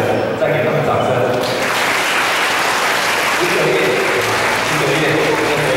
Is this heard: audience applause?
yes